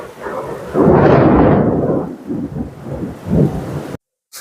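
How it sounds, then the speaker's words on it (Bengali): Heavy thunder rumbles loudly during a rainstorm, a deep sustained roll followed by smaller grumbling bursts over a steady wash of rain, ending abruptly. "বাইরে এখনো বৃষ্টি কমেনি"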